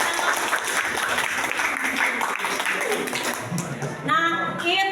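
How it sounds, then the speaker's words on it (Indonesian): Students applaud together in a classroom during an Indonesian-language lesson, a steady clatter of clapping running the full length alongside some talking and crowd noise that rises again near the end. "Beri tepuk tangan."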